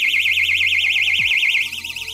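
A loud, piercing electronic alarm warbles rapidly up and down without pause, close and continuous, with a brief low thump partway through.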